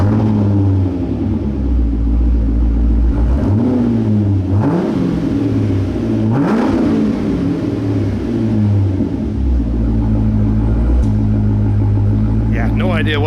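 Straight-piped exhaust of a 2008 Corvette Indy Pace Car with no mufflers after the headers, rumbling loud and close with a few rising revs, while people talk over it.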